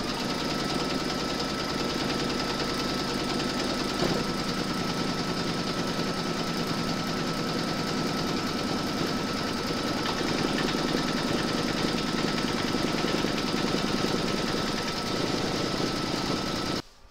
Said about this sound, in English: Pop your hoop into your machine and stitch round number 3, and that's going to secure your fabric and quilt it at the same time.